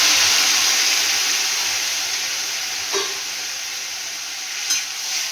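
Papaya poured into a pan of oil with fried nigella seeds, green chili and ginger paste gives a steady loud broadband sizzle with a brief surge near the middle and another toward the end, no voices.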